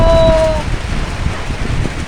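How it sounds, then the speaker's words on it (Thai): Rain falls over rice fields beside a small hut at Phu Pha Aek in Thailand, a steady, close, broadband hiss of drops with a brief whistling tone at the start. "ฝนมาแล้วฝนมาแล้ว"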